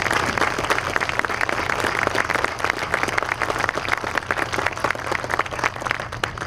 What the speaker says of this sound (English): And I want you to give her a round of applause.